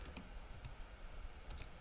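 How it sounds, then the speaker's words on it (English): Quiet, close keystrokes on a computer keyboard as a terminal command is typed: a few scattered clicks in an irregular rhythm, faint against a soft background hum. "Then you're going to type"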